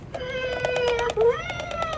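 An animated Graven Bones skeleton cat Halloween decoration gives a drawn-out electronic meow with a rising wail at the end, close and clear over a faint store background.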